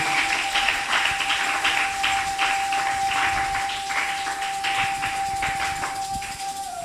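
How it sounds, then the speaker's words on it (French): A church congregation applauding, many hands clapping in a dense, rapid, continuous patter at steady volume for several seconds, with a faint sustained tone underneath. "Acclamez. Beta maboko."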